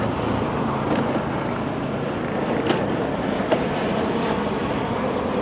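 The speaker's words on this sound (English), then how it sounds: "That's a plane going into National over the volleyball courts there." An airplane on approach into National airport passes overhead above outdoor volleyball courts in D.C., a broad, steady roaring drone that stays loud and close throughout and has no talking.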